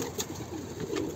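A white pigeon coos nearby in a loft with young birds, soft low throaty calls repeating quietly over faint background noise, no talking.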